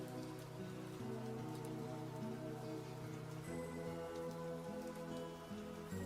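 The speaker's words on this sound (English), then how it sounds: "The rain is coming down hard." Heavy rain pours down steadily outside, a dense continuous hiss that runs the whole time beneath loud, sustained tonal music.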